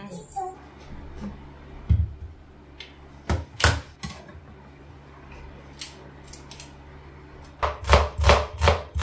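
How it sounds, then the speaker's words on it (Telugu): Knife chopping onions finely on a board at home, in scattered sharp taps that cluster into quick bursts toward the end, close and moderately loud with no voices. "ఈ రెసిపీకి ఆనియన్స్ చాలా చిన్నగా చాప్ చేసుకుంటే బాగుంటుంది."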